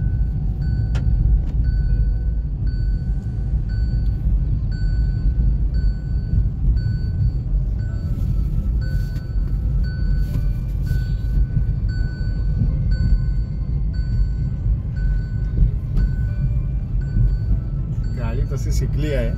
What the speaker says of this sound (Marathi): मोना चालवत आहे गाडी.